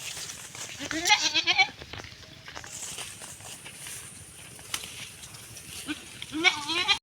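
Goats bleat twice, near and fairly loud, once early and again at the end, with rustling footsteps and soft movement in between.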